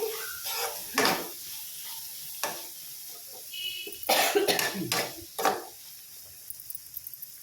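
A person coughs a few times close by in a kitchen while a pan of bitter gourd fries quietly in the background, with occasional utensil clinks.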